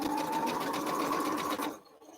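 A sewing machine chain-sews strips for an arrowhead quilt block, running in a steady fast close whir that stops abruptly near the end.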